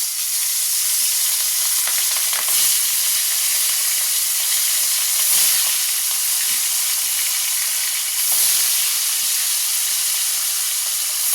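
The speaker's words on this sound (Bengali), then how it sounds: "কড়াই তেল গরম হয়ে গেছে, এবার মাছগুলোকে ছেড়ে দেবো" Fish fry in hot oil in a kadai, giving a loud continuous sizzle and hiss with a few sharp crackling bursts and no talk.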